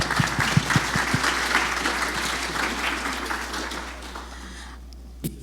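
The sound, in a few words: applause for the panel team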